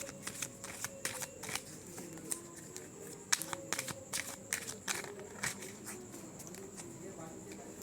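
Tarot cards are shuffled by hand with a rapid, continuous flutter of crisp riffles and soft slaps, close and steady, while someone talks quietly throughout.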